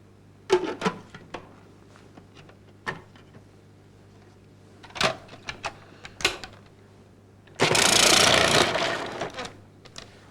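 A 1998 Cuisinart DLC-10 food processor shreds yellow squash in one loud, dense whirring burst of about two seconds, preceded by scattered sharp clicks and knocks of handling.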